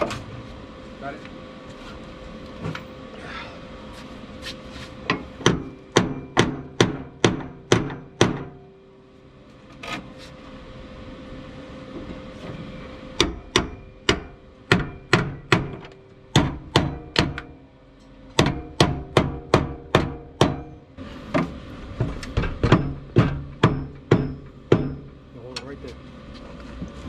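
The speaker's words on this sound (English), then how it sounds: "Get a hammer." Bursts of sharp, rapid metallic hammer strikes in quick runs, pausing between sets, over a steady mechanical hum with occasional voices.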